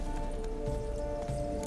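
Ghostly horse hooves from The Witcher 3: Blood and Wine, a soft steady clip-clop under a constant droning ambient hum and music, quiet and somewhat distant.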